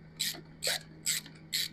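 A socket ratchet clicks in four short, evenly spaced bursts while tightening the rear foot control mount on an Indian motorcycle, close and crisp over a low steady hum.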